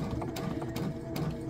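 A sewing machine stitching a small quilt block piece at a short stitch length, a steady close mechanical whir with a rapid needle rhythm running continuously throughout.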